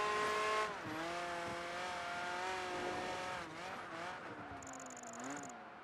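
Race car engines whine and shift pitch in Project Gotham Racing 3, with a Ferrari, Pagani and Koenigsegg in an endurance event, high harmonic engine tones rising and dropping through gear changes, a sustained loud roar with brief tire squeals.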